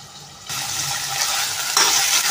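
Curry leaves dropped into a pan of frying carrot, green chilies, cluster beans and corn for a jowar vegetable pulao, the sizzle jumping up sharply as they hit the oil, with a metallic clink and stirring near the end.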